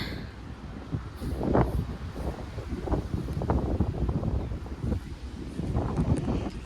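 Wind gusts buffet the microphone in a steady low rumble, swelling and easing over several seconds with no voices.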